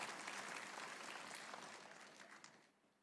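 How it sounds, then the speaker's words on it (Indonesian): A church congregation applauds in a full, lively burst that holds for a couple of seconds and then fades out, with no talking over it. "Yang percaya kita boleh tepuk tangan yang paling meriah bagi Dia."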